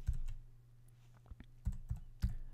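Soft clicks of code being typed on a computer keyboard, a few scattered keystrokes in a short burst, quiet and close over a low steady hum.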